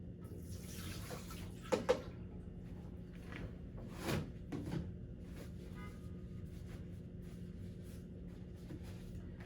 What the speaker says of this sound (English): Rinse water goes into the toilet.